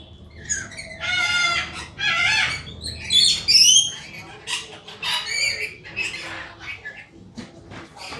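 Red-headed lorikeets at a bird exhibition at a fair give loud, harsh squawks in repeated bursts close by, with faint crowd noise underneath.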